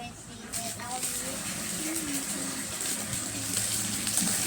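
Warm water runs steadily from a tap, a continuous broadband wash heard close up, with brief voice sounds and light handling noises over the flow.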